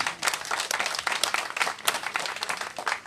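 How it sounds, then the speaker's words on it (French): Moderately close applause from the audience at a public talk on Gabon, individual claps audible in an uneven, flickering rhythm that rises and dips across a few seconds. "Veuillez applaudir s'il vous plaît"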